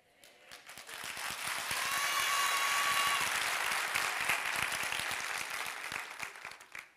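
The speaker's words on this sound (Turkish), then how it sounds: "Siz böyle alkış yaparsanız ben ne ara konuşacağım?" A theater audience at a live Turkish stand-up comedy show bursts into sustained applause, swelling within the first second to a loud, dense wash of clapping that holds steady and then tapers slightly near the end.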